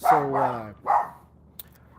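Dogs bark in a backyard: two loud, close, drawn-out barks in quick succession, then quiet.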